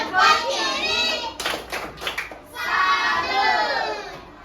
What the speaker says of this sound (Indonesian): Kita beri tepuk salut dulu untuk kelompok Australia.